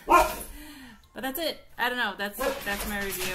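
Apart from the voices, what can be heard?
dog barking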